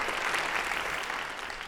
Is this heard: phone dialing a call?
no